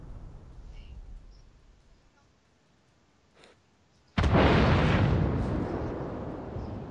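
Naval shell fire and explosions in World of Warships, a quiet stretch with a faint distant thud and then a sudden, loud, sustained blast that rumbles on at high level, with speech heard earlier.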